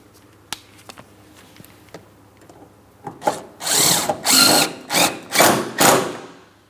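A power drill tightens a bumper mounting bolt on a 2003-2007 Cadillac CTS: after a few light taps, five or six loud, close whirring bursts follow in quick succession.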